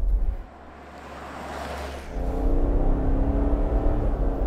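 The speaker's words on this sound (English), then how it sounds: "that lovely silky BMW six-cylinder. I don't know how they've got it to sound so good in this car" An INEOS Grenadier with a BMW six-cylinder engine accelerates, a quiet low rumble at first that swells after about two seconds into a steady, smooth, louder engine note with rising harmonic tones.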